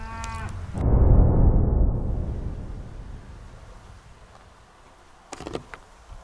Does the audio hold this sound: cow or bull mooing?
yes